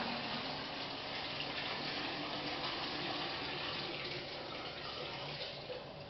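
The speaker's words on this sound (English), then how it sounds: "then we'll dump this bucket of water into there" Water pours and splashes from a bucket into a fish tank in a steady, continuous rush for several seconds, with no voices.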